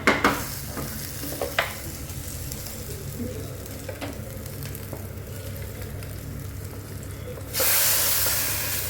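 Curry leaves and onion for tempering a chicken curry fry in hot oil, a steady close sizzle broken by a few sharp stirring clinks early on, then a louder hissing surge near the end.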